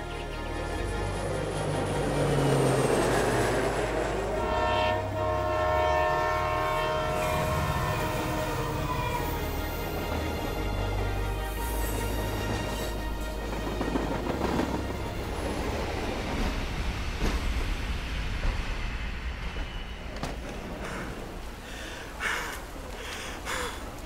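A train rolls along the tracks, a loud continuous rumble with clattering wheels, a long horn-like tone early on, and rattling carriage noise throughout.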